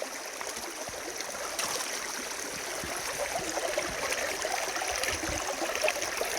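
Water flowing steadily through a shallow creek while prospecting for gold at Sailors Creek near Daylesford, a close, continuous babbling and trickling rush with small splashes.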